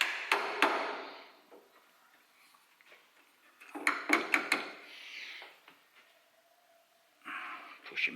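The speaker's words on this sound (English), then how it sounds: "A little tap with my hammer." A hammer taps a metal gear-change part on a Lambretta scooter in several sharp, close metallic knocks, grouped in short clusters with quiet gaps between them, with no talk over it.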